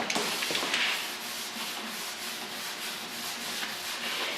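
Steady dry scraping of a sanding block worked over body filler on a 2008 GMC Sierra truck tailgate, continuous and close with a slight back-and-forth pulse and no talk.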